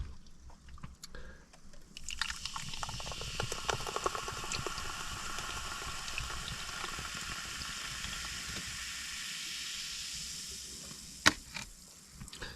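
A drink can snaps open with a crack, then fizzes in a long, steady hiss that fills the clip before a sharp clink near the end.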